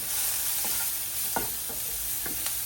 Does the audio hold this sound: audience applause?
no